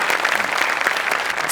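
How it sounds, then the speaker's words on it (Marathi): Steady applause from a live audience at a Marathi comedy stage show, dense rapid clapping held at an even level for a moment before a song begins. "मी टाळ्या वाजव ना मॅडम साठी."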